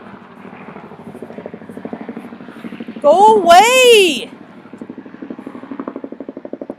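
A helicopter flies over a residential area in Salem, Oregon, its rapid rotor thumping steady throughout while someone briefly shouts over it.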